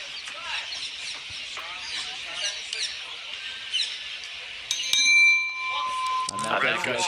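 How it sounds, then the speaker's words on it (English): A boxing match opening bell at the IBA Men's World Boxing Championships rings out sharply near the middle, with a sustained ringing tone after, following crowd noise and voices in the arena. "And there goes the opening bell."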